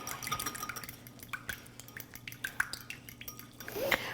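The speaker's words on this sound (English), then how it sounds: "Just give that a nice stir, almost beat it." Salad dressing is stirred and beaten in a bowl, giving a run of quick, light clinks and wet taps of a utensil, close and fairly faint, with a brief squeak near the end.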